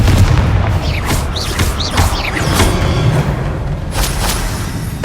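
Explosive spell blasts from the Confringo spell in the Hogwarts Legacy video game, a rapid series of loud booming bursts with swooping whooshes, dense and continuous across the clip.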